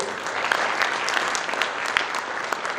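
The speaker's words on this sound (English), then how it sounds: "I give a big round of applause to Ashish Dover who launched with me Geo" Audience applause at a tech conference in India, steady dense clapping across the whole stretch with no talk over it.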